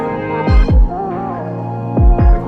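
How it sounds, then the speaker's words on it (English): A lo-fi drum pattern for a beat's outro, with deep booming kicks in pairs over a warm, saturated hum and faint melodic tones, thick and compressed. "Drum pattern with some RC20 on it, just for the outro post hook"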